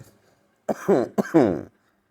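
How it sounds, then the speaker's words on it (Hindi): Two harsh, throaty coughs close to the mic, the second longer and rougher, with brief silence before and after. "मुझे हो गई है खांसी।"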